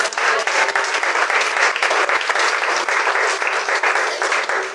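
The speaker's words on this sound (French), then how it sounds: "Est-ce qu'on peut acclamer?" A church congregation bursts into steady, dense applause, a continuous wash of clapping held at even strength for several seconds.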